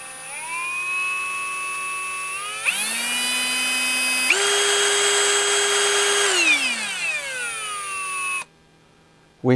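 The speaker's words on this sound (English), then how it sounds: "The harder I press on it, the faster the chuck spins." RIDGID 18V brushless 1/2 in. hammer drill with its chuck spinning freely, a loud whining motor that ramps up in steps to higher speeds, holds, then winds down before cutting off, no talking.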